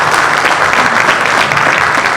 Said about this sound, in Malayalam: അവർക്കൊരു വലിയ നന്ദിയും കയ്യടിയും നമ്മുടെ സൈഡിൽ നിന്ന് കൊടുക്കേണ്ടതാണ്